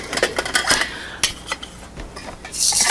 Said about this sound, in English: I'm going to get my pots and pans out.